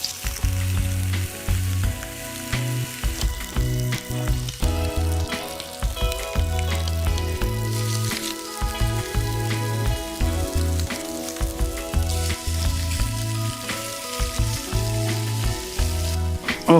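Rump or sirloin steak, about 2 to 3 centimetres thick, searing rare on a hot griddle: a loud, steady crackling sizzle with popping spits throughout, no voices.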